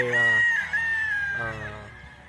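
A yellow-legged stag with heavy bone and medium-high station crows once, close and loud, a single long drawn-out call of about two seconds that trails off at the end.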